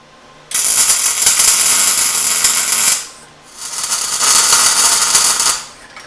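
Two long, loud bursts of crackling, hissing welding noise as tack welds are laid on a steel portable bandsaw vertical stand, with a short quiet gap between them.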